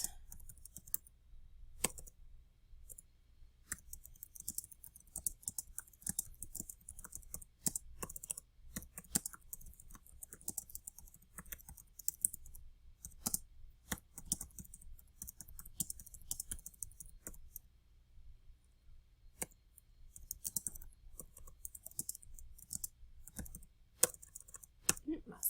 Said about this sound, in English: my typing skills are off today.